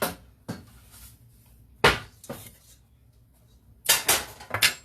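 A pie pan and other dishes are handled in a kitchen, giving several sharp metallic clanks and clinks in irregular bursts, close and fairly loud, with quiet gaps between.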